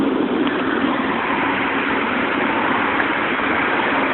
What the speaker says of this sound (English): It's doing really heavy traffic right now. I know it's like a little bit loud.